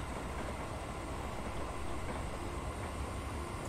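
Steady low rumble of a train locomotive's engines in Train Simulator 2019 on the Scottish East Coast line, Edinburgh to Dundee, droning continuously with a constant hum, no voices.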